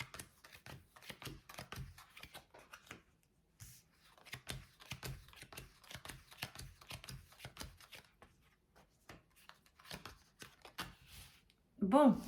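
Tarot cards are shuffled by hand during a daily card reading: rapid, crisp riffling and flicking clicks in irregular clusters, close and fairly soft, with quiet talk and a louder thump at the end.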